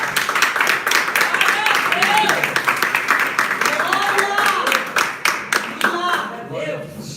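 A church congregation claps steadily through worship, the dense applause loud and close with rhythmic sharp hand strikes, while voices call out over it and a sung or spoken line rises and falls beneath.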